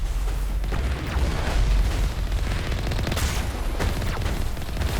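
Steady, loud gunfire and booming blasts in the video game Mass Effect, a dense continuous barrage with explosive thumps and no voices over it.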